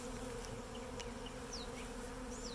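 Honey bees hover at the closed entrance hole of a cedar Flow Hive 2, making a faint, continuous, even buzz with occasional individual bees droning past.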